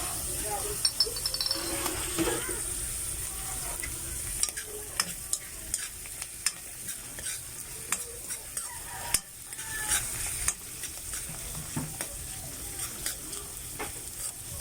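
Food frying and sizzling in cooking oil in a pan, a steady soft hiss broken by stirring scrapes and occasional clinks, fairly quiet and close with no talking.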